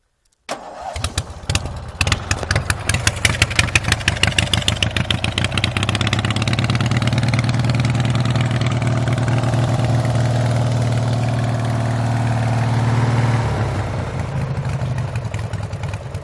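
A racing lawn mower engine cranks in rapid pulses, catches, and settles into a steady, loud, close idle with a slight rev before dropping back.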